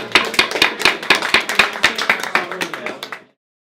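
A live performance audience claps at a comedy show, a dense burst of hand claps in a steady patter that fades and stops after about three seconds.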